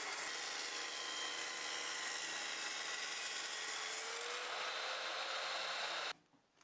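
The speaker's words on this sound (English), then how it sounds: "I used a table saw to remove that so that I could have a nice straight edge for the glue up" A table saw rips the edge off an oak board, a loud, steady whine of blade through hardwood running continuously for about six seconds before cutting off abruptly into near silence.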